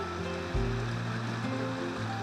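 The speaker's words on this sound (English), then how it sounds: "This stream feeding into the main river, forks." A woodland stream near Haw Creek Falls flows and feeds into a main river, making a steady, close, broadband rush of running water with no talking over it.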